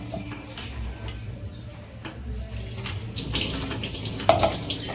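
Water runs and splashes steadily into a container while cooking, growing a little louder toward the end, with a faint clink.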